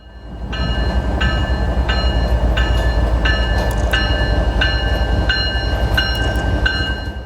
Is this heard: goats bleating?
no